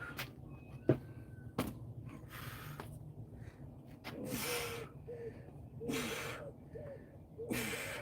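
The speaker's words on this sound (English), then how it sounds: "You can hear those cats fighting again." Cats fighting somewhere outdoors, heard faintly as bursts of hissing and growling yowls separated by quiet gaps, against a low background hum.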